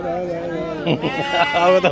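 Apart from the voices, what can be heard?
lamb bleating at sheep and goat market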